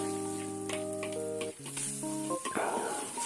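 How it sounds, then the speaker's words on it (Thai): Thai jungle curry with paddy eel is stir-fried in a pan, giving a soft close sizzle with scraping and clinks under sustained tonal background sounds, faint and without speech. "นี่เราจะค่อย ๆ ผัดไปแบบนี้นะครับเรื่อยๆ"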